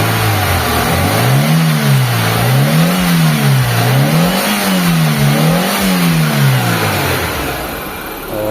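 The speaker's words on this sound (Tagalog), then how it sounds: "cold start to mga boss" A long-stored Mitsubishi Lancer engine running just after a cold start, close and loud, its revs rising and falling in a repeated wavering cycle over a steady mechanical drone, with no voices.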